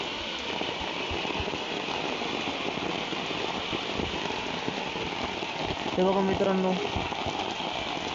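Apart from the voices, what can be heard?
heavy rain falling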